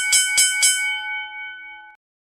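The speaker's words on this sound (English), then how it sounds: "We got the bell on that one" A bell struck three times in quick succession, each strike ringing out bright and clear, then a sustained tone lingers for about two seconds before cutting off, heard alone without talk.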